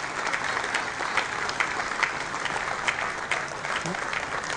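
An audience in a Surat hall applauds in welcome of the chief minister at a police felicitation ceremony, steady thick clapping filling the room for several seconds with faint crowd murmur underneath.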